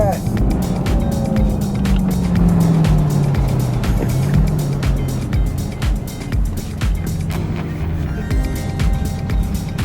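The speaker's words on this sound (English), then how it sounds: "Very fast car." A very fast car drives past at a street meet, its engine roar sweeping by with a falling pitch over steady road and crowd noise, with people talking nearby.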